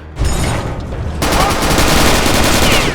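Loud, dense automatic gunfire from Return to Castle Wolfenstein, played on a custom test map, starting abruptly and continuing as a rapid unbroken burst.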